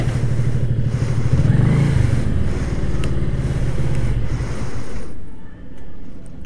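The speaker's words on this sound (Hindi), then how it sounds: "राइट को लेके निकालती हूँ बाइक आगे" A motorcycle ridden off-road on an open rural road, its engine rumbling loud and close with a brief rev and steady throttle before easing off near the end.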